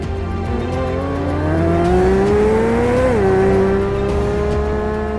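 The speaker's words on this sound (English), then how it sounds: "It's all naturally aspirated American V8 power." A naturally aspirated V8 in a Corvette C8 Z06 roars loud and close on the Willow Springs track, pitch climbing steadily under acceleration before dropping sharply at a gear change and pulling again, with no talk.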